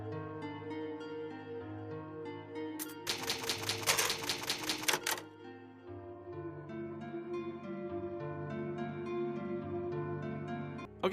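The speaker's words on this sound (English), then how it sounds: "Number 5, Typewriters and Ink Ribbons." Rapid burst of typewriter key clacks from a Resident Evil save typewriter, lasting about two seconds and loud over steady background music that keeps playing before and after.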